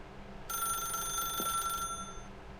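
A telephone rings in the video game The Stanley Parable: Ultra Deluxe, one sustained bright electronic ring lasting just over a second against a quiet background, with no talking.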